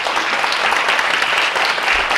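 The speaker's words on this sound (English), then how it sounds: "So let's give her a round of applause." An audience claps steadily throughout, a dense, even round of applause from a sizable crowd indoors at an academic ethnography forum.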